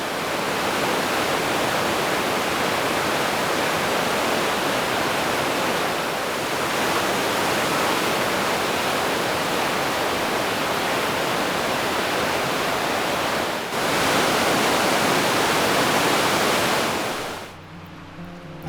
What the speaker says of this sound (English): We've just crossed the river and it's a raging torrent